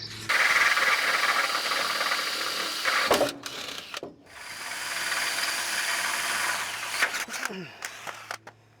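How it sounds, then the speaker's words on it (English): An electric drill bores a hole in a metal cutter bar on a Hesston PT-10 hay mower, a close, steady whirring grind that stops, restarts briefly, then trails off in short bursts. "I've got my hole drilled in the cutter bar"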